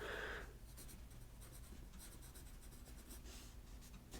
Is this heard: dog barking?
no